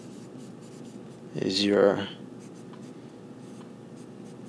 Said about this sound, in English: I'll write it out